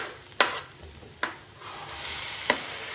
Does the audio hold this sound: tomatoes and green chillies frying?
yes